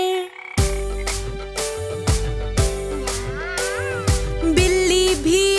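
A cartoon-style cat meows in a Hindi children's rhyme song, several sung, pitch-bending meows over a steady musical backing with rhythmic beats.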